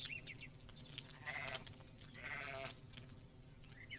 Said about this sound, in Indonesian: Iya, seekor domba kecil terbaik.